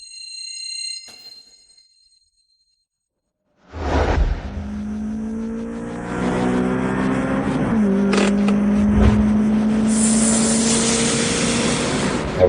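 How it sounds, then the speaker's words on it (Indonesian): A race car in a speed challenge rushes past and revs loud and close, its engine pitch climbing and shifting over a sustained roar, preceded by a brief tone and a silent gap. "Mobil Ferdi terlalu cepat."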